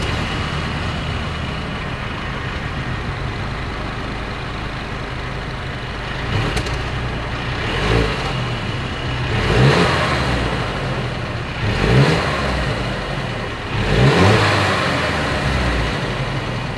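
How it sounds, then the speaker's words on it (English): A 2022 Mercedes-Benz GLC 300 Coupe idles with a low steady exhaust rumble, then is revved in four short blips that rise and fall, recorded close to the tailpipes with no talking. "As always, here is that exhaust clip."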